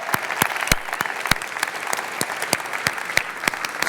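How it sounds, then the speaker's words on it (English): An awards ceremony audience applauds, a few sharp, distinct claps standing out over a thin, steady wash of clapping at moderate volume. "Round of applause for everybody."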